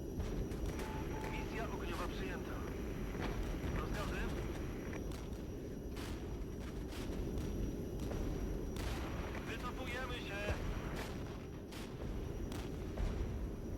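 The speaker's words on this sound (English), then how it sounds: "Try to take out their artillery systems." Artillery fire in a realistic real-time strategy video game booms repeatedly in sharp bursts over a dense rumble of battle noise, with someone talking over the action.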